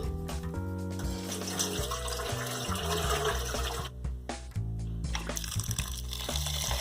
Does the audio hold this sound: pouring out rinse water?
yes